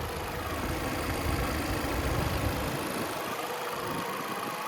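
A 1.4-liter turbocharged four-cylinder in a 2017 Chevrolet Cruze sedan idles under the open hood, a steady, continuous engine hum with a faint low rumble throughout.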